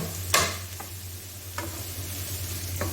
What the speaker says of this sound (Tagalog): Gisa na natin ang ating sibuyas.